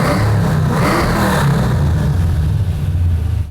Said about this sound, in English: The video we've done recently is a set of Flowmaster dumps, which sounded great on this Mustang GT